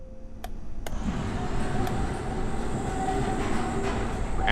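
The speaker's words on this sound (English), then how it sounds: "It looks like we've got our final tram." Tram ride in the video game Abiotic Factor: a steady rumbling rail hum with clattering wheels and a few sharp metallic ticks, continuous and fairly loud throughout with no voices.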